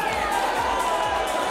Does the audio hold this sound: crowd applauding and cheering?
yes